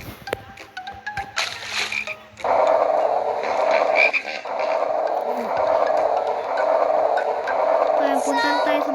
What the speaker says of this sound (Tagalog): Ba't may palaka?